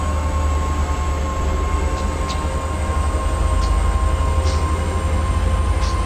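Southern Pacific SD45 diesel locomotive in Train Simulator 2015 on Donner Pass, throttled back cresting a hill: a steady loud engine drone with rumbling low end, a constant whine and faint intermittent high hisses, no talk.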